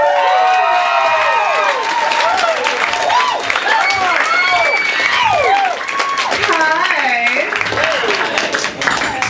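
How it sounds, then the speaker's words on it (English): A stand-up comedy audience cheers, whoops and applauds as a comedian is introduced, with loud crowd shouting and clapping throughout and a few voices standing out. "Give up a big round of applause for Miss Melissa Archer."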